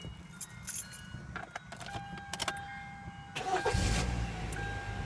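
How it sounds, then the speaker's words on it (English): Keys jangle and click inside a Hyundai Tucson, then its engine cranks and fires up after a new battery install, settling into a steady idle near the end. "That baby fired up"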